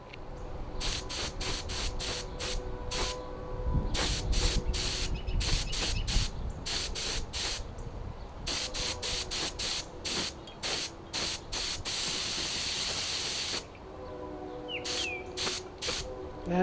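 Aerosol spray paint hissing onto the underside of a muffler heat shield during restoration of a 1956 Cooper Cyclo-Mo-18 with a Briggs & Stratton engine, a close run of rapid short bursts and one long continuous spray.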